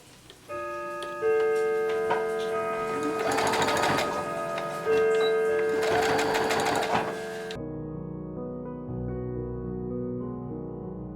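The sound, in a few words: sewing machine stitching a fabric face mask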